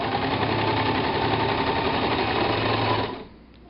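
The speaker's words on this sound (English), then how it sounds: "you will go ahead and sew down and make a curve" A sewing machine stitches a curved half-U seam on fabric for a hoodie, its fast steady whirring hum close and alone for about three seconds before it winds down and stops.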